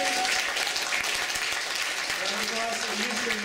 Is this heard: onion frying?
no